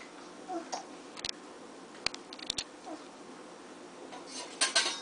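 A small child bangs a metal spoon on hard surfaces indoors, making a few sharp, scattered clinks and knocks, two in quick succession, over a faint room background.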